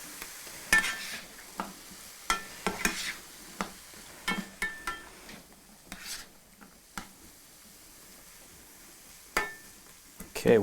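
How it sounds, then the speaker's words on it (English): Vegetables sauté in a pan with a little water, giving a soft sizzle under repeated clinks and scrapes of a utensil stirring them, with quiet kitchen background between the strikes. "Now I personally like to put just a little bit of water in there, just so they have a little bit of a sautéing to them."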